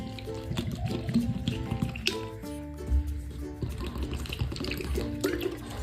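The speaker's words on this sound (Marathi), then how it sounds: "आता पाणी टाकायचं" Water is poured in a short splashing stream into dry dal-rice flour, followed by soft hand-mixing sounds and clinks against a bowl, with no talking.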